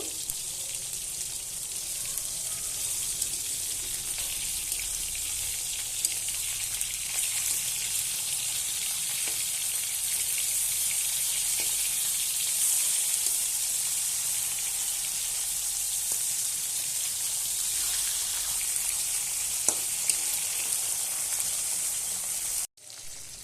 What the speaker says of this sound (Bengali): তো মাছটা ভাজা হয়ে গেছে, এবার আমি উল্টিয়ে দেব